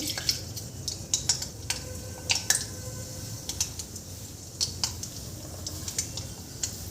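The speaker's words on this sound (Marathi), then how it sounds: "आता इथे आपल्याला मोहरी घालायची आहे." Mustard seeds crackle in hot oil in a kadai on a gas stove, a close, fairly quiet run of sharp, irregular ticks and pops over a soft sizzle, with no talking.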